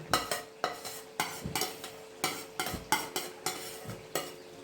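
Grated tomato puree being stirred in a pan with a utensil, giving a steady run of close scraping strokes with a faint sizzle beneath.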